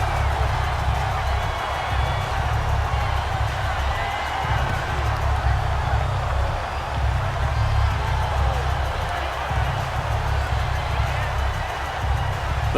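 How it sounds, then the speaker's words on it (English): Steady roar of a domed-stadium crowd during a Kansas City Chiefs versus New Orleans Saints game in Madden NFL 19, a dense continuous rumble holding level throughout with a commentator's voice faintly over it. "The crowd here in the Dome making things difficult"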